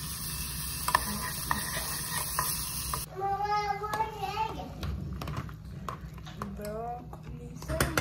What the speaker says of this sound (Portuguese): Vamos dourar.